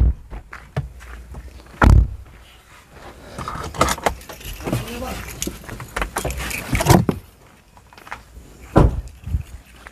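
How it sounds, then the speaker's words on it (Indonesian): A door is opened amid jangling keys, clunks and shuffling, with several sharp knocks and bangs spread through the stretch and people talking in the background. "Oh, terbuka pintu RT."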